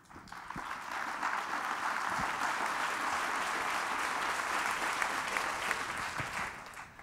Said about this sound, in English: I believe we can really applaud them.